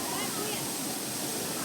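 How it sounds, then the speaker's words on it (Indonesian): A 20-metre-high waterfall pours down in a steady, broad, hissing rush that fills the whole moment. A voice may be talking faintly underneath it. "Air terjun dengan tinggi 20 meter ini tidak hanya menjanjikan keindahan"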